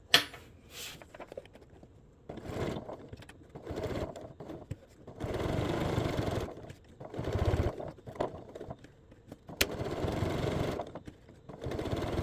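A sewing machine stitches shoulder straps for a coral beach bag in close, buzzing bursts of a few seconds each, separated by short pauses and a few clicks.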